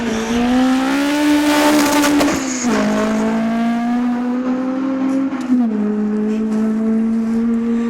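A Subaru Justy rally car on a special stage gives a raspy, high-revving engine note, climbing through gears with sharp shifts as it passes nearby, loud and alone.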